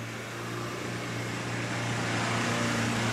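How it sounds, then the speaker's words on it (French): A 4x4 off-road vehicle pulls away in second gear and climbs a slope under steady, constant throttle, its engine a continuous low drone that swells gradually louder across the whole stretch, with no talk over it. "on va démarrer en deuxième avec beaucoup plus d'accélération, accélération qui sera aussi constante"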